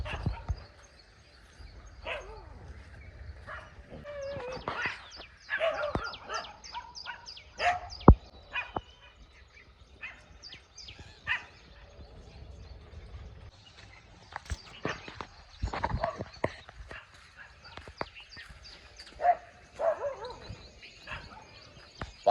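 Dogs bark in a village in irregular bursts of sharp, fairly faint barks, some overlapping, scattered across a quiet outdoor background.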